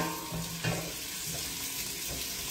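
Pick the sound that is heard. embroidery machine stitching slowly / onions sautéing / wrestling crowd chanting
onions sautéing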